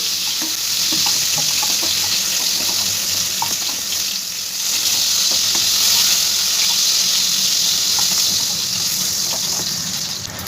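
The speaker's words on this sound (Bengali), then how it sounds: "পটলটা আমার খুব ভালো করে ভাজা হয়ে গেছে" Pointed gourd frying in hot oil, a steady close sizzle with faint stirring scrapes throughout, no talking.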